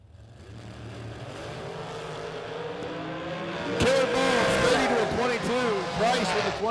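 A dragster racing down a drag strip at a bracket race, engine roar building and rising in pitch, then a loud, harsh surge of revving with rapid harmonic sweeps as it launches, heard at moderate distance with a commentator talking over it.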